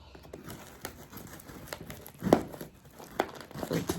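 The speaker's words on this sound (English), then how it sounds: "Still battling with the tape." Packing tape on a yarn subscription box is picked at and torn, with crinkling, scratchy rustles and a few sharper rips and taps close by, fairly quiet and without speech.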